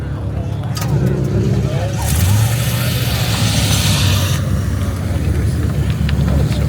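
A Ford GT sports car pulls away in first gear at a cars and coffee meet, its engine rising into a loud, sustained roar with crowd chatter underneath.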